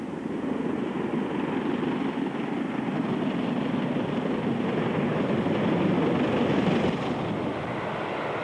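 Steam locomotive working a main-line rail tour north from Crewe under overhead wires on the West Coast route, giving a steady, muffled distant roar of constant level that swells slightly near the end.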